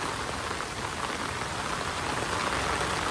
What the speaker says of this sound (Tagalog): basang-basa ka na ng ulan